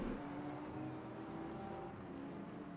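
A BMW GT3 race car in Le Mans Ultimate drones with a steady engine hum at moderate distance, holding a fairly constant pitch throughout.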